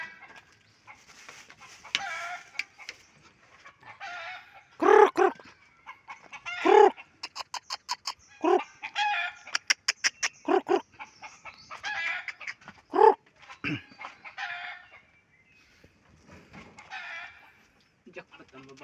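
Chickens cluck in short bursts with a few sharp crowing calls, fairly close, while people talk intermittently in the background.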